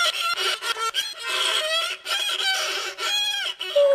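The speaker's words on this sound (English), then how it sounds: "you move the bow across the strings to make a sound" A violin is bowed in a children's cooking show, producing short, screechy, scratchy phrases with squeaky sliding pitches and uneven stops and starts.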